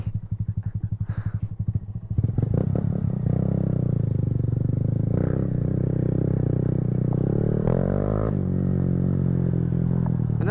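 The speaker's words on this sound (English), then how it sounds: "that's how you warm up a Grom" A Honda Grom motorcycle engine warms up, starting with rapid idle clatter, then settling into a loud, steady, throaty rumble with a brief rev near the end.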